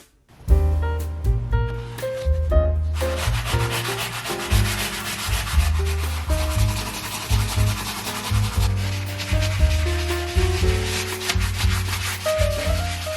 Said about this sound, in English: I'm gonna go ahead and sand this stuff down